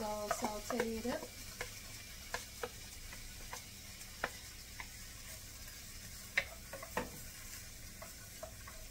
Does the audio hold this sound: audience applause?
no